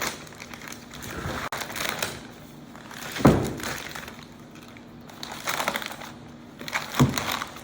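Wrapping being pulled off a freshly laminated wooden boat stem after coming loose from its mold: close, irregular crinkling and crunching with a few sharp cracks and thunks, no talk.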